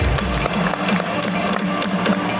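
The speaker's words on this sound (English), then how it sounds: "Let's give him a round of applause." Audience applause welcoming a speaker onto a stage, steady dense clapping from a crowd, close and continuous throughout the short span.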